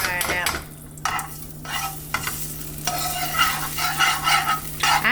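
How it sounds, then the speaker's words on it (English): Eggs sizzling in a tablespoon or more of butter in a frying pan, a steady close crackle and hiss with scraping stir strokes cutting in at intervals, alone with no talk. "I don't whip my eggs before I put them in the frying pan."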